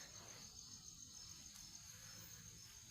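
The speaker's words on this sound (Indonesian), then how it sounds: "Wah, jangkrik." Steady, continuous high-pitched cricket chirping, faint and unbroken, with a quiet night ambience underneath and no voices, heard while camping at an old Javanese joglo house.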